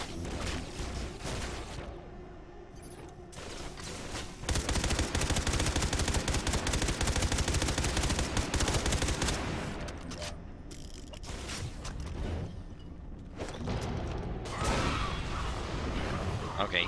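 Video game gunfire from Far Cry 3: Blood Dragon, long sustained loud bursts of automatic fire with mechanical clatter, broken by short pauses, with people talking over it.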